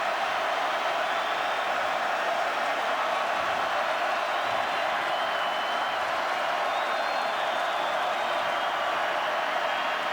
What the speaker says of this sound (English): Crowd coming up and trying to help out the defense.